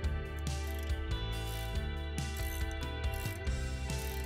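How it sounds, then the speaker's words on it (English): A ratcheting box end wrench clicks rapidly and steadily as it tightens a nut on a 2005 Toyota 4Runner during a suspension install, close and fairly loud, with a regular back-and-forth rhythm. "tighten the nut using a ratcheting box end wrench"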